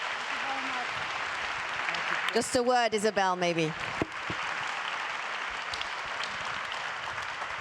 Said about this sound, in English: Please give Jeremy Rifkin a big round of applause